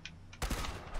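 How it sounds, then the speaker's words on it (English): Fireworks burst at the Mothman Equinox event in the video game Fallout 76: two faint pops, then a loud crackling volley of rapid bangs that carries on to the end. "Ah, fireworks. Gotta love them."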